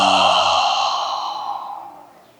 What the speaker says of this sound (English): And open the mouth and exhale deeply.